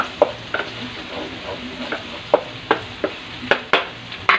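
Pork estofado browning in a pan, a soft continuous sizzle broken by repeated sharp scraping clacks of a utensil as it is stirred, close up with no talk.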